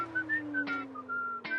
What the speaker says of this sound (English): You love a whistle.